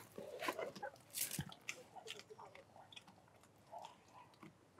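A dog crunches green beans in a garden, giving a run of irregular chewing and biting crunches at close range, with quiet speech and bits of background noise between the bites.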